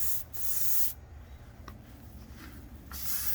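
An aerosol can sprays varnish onto a teak window screen outdoors in short close hissing bursts, one at the start and another near the end, with quiet rubbing between.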